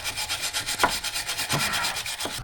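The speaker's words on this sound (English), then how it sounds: "I'm gonna grab a brush and we're gonna try to scrape some of this crap off" A hand brush scrubs grime off the upper control arm and ball joint area of a 2015–2020 GMC Yukon Denali, a close, steady back-and-forth rubbing that runs evenly for about two and a half seconds with a few firmer scrapes and no talking.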